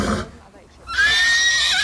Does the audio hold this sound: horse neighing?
yes